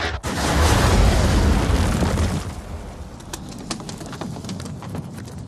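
A six-pound tank gun firing in the film Indiana Jones and the Last Crusade, a massive booming blast that rolls on as a long rumbling roar, then thins into scattered debris patter and faint birdlike chirps.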